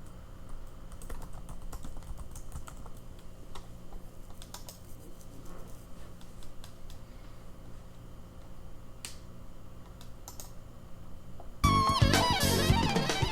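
Rapid, steady clatter of typing on a computer keyboard runs for most of the stretch at moderate level, then a louder, denser burst of noise takes over near the end.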